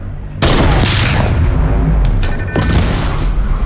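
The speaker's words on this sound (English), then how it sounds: "I'm gonna shoot it. I'm then gonna impulse nade myself" An impulse grenade bursts in Fortnite with a sudden loud boom, followed by a dense crackle of gunfire and a second sharp blast midway, close and overwhelming with no talk.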